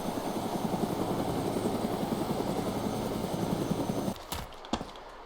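A helicopter in the DayZ game thumps steadily and loud for about four seconds with rhythmic rotor chop, then cuts off abruptly, followed by a couple of sharp knocks.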